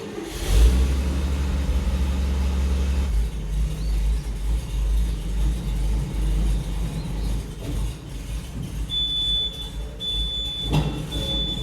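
A Chevy Viking 60 truck engine idles inside a garage with a steady, loud low rumble; a thin high whine joins near the end.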